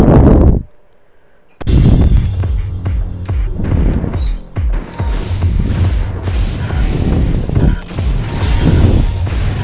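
Loud booming blasts from Armored Core 3 go off one after another, deep thuds with crackling debris, after a brief near-silent pause at the start.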